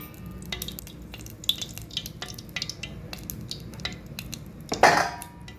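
Shark fish pieces frying in a pan, a soft steady sizzle broken by scattered clicks of a spatula against the pan and one louder scrape near the end, no talk.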